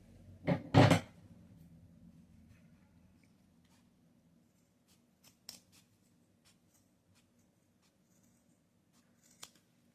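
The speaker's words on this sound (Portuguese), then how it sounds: "para cortar os zíperes, essa sobra de zíper." Scissors snip through leftover zipper ends on a small fabric pencil case: two loud, close cuts at the start, then a few faint clicks and handling noises in a quiet room.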